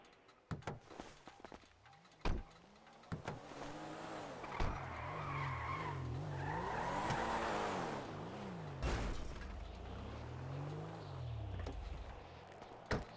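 A video game car's engine revs and whines while tires screech in repeated skids, punctuated by sharp thumps and bangs, loud and close throughout.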